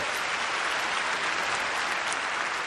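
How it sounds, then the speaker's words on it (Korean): A large audience breaks into thick, continuous applause, a dense roar of many hands clapping at once with no pauses. "박수 많이 주세요."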